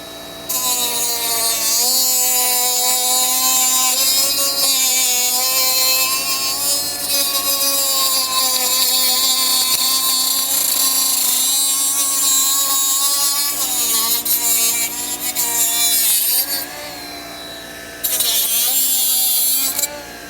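A Worx mini cutter saw slices through thin PVC pipe clamped in place, giving a loud, continuous high whine with shifting pitch for about twenty seconds and a brief dip near the end. No one speaks.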